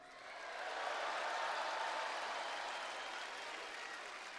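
A wrestling arena crowd at a WWE Smackdown event applauds in a broad, sustained wash of clapping and cheering that swells in after a quiet start and holds steady at a distance.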